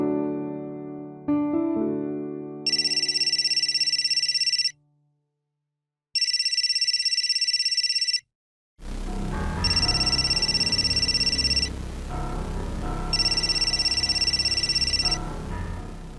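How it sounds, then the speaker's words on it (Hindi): A phone ringtone plays in repeated electronic bursts with short pauses between them, loud and close, over a brief musical tone at the start. "सुधीर का फोन है क्या?"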